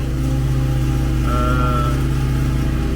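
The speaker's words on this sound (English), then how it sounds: "our lawnmower guy's too loud" A lawnmower engine drones steadily nearby, loud and continuous throughout with a constant low hum and no pauses.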